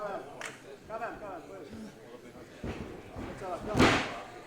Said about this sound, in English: A clothesline from Torpedo.